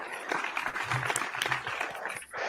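A brief burst of clapping and applause, dense and steady for about two seconds, from an audience cheering during a casual wrestling chat show.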